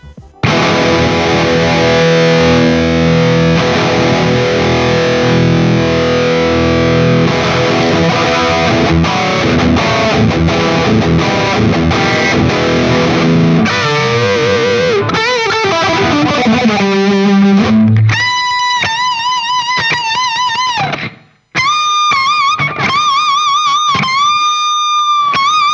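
Heavily distorted electric guitar through a NUX MG-30 amp modeler using a bass-heavy Devil's Lab Magma IR, with loud sustained chords giving way to bent high notes carrying audible aliasing artifacts.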